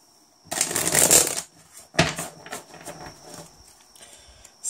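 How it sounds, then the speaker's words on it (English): Tarot cards are shuffled in bursts, a loud riffling flutter followed by a sharp snap and several softer, shorter shuffles close to the microphone, with no talking. "I'm just going to give it one last shuffle."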